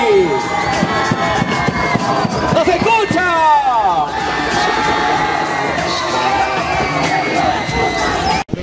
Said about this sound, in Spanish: Fuerte las palmas para recibir a nuestra tercera candidata